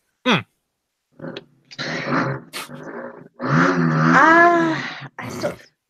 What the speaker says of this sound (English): Fucking supermoto in the background